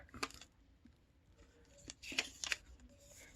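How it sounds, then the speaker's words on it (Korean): Paper is folded and creased by hand for an origami jellyfish, with soft rustles and a few crisp crinkling snaps close by, quiet and intermittent, with no speech. "자, 왼쪽도 여기 끝부분까지 이렇게 접어줍니다"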